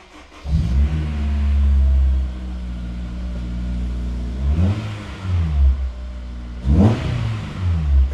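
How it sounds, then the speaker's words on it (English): A Honda S2000 with a custom exhaust cranks and fires into a deep, loud idle, then revs sharply twice with a throaty, rumbling exhaust, close by. "So let's give it a start and make sure it doesn't explode."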